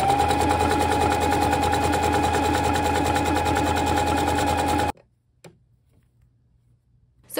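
A sewing machine fitted with a ballpoint needle stitching stretch fabric, a steady close rhythmic whir for about five seconds that stops abruptly, followed by near silence and a couple of small clicks.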